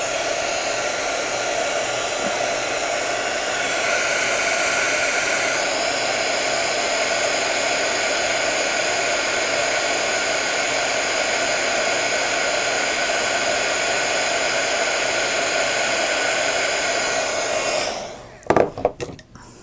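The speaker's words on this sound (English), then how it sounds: "this is just a regular heat gun, one of the cheapies that are usually under 20 bucks" A cheap electric heat gun runs continuously with a loud, steady roaring hiss and fan whine before switching off near the end, followed by a few brief handling knocks.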